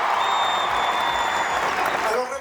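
An audience applauds Camilo Pérez López Moreira, president of the Paraguayan Olympic Committee, with dense, steady clapping that holds loud and even before tapering off at the end.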